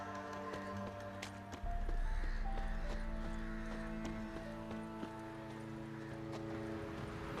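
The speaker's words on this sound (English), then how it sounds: "A merchant's wagon." A horse-drawn merchant's wagon in The Witcher 3, steady hoof clip-clop under a low rumble of heavy wheels, fairly close and continuous against background music.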